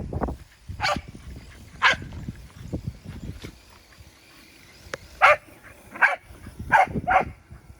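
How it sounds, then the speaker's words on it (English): A dog gives a series of sharp, yippy barks at a remote-control car it is herding, several in quick succession, with quieter rustling and movement between them. "She's telling it where to go by barking at it."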